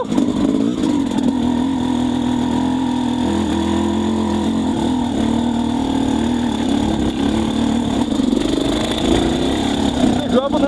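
A Lectron Billetron Pro 38 motorcycle engine drones steadily while riding up a steep slope in second gear, a loud, even mid-pitched hum with slight rises in revs throughout.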